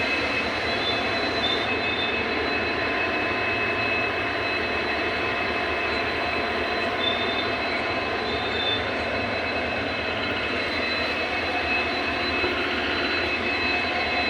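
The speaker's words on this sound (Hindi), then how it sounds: "ये आ गई कोई टैंकर ट्रेन, ऑयल टैंकर।" An oil tanker freight train rolls through an Indian junction station near Jodhpur with a steady, continuous rumble and rail noise that holds at an even level throughout, without voices.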